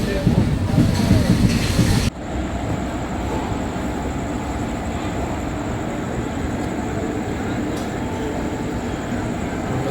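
Nagpur Ahmedabad Prerna Express departing platform 1 at Vadodara railway station, a steady rolling rumble with a faint high whine that continues throughout after an abrupt change near the start, with a voice speaking at the beginning.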